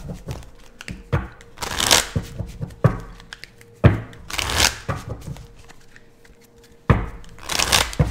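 Haunted Nightmare Tarot cards being shuffled by hand, close riffles and soft slaps in three or four bursts with taps and thuds between.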